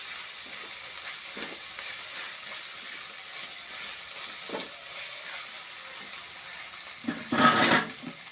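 Steady frying sizzle of ginger garlic paste in a pan, with occasional stirring scrapes and a louder burst of sizzling near the end.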